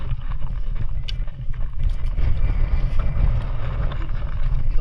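Strong wind buffets a boat at sea, a constant roaring rumble with water wash, loud and steady throughout with no voices.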